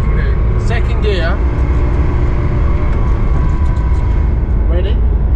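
A Ferrari accelerates hard in second gear on an open road, its engine a loud, continuous roar heard from inside the car.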